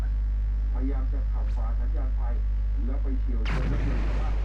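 Goku (training) attacks in the video game All Star Tower Defense. Voices talk over a constant low hum, then a sudden loud noisy burst hits near the end.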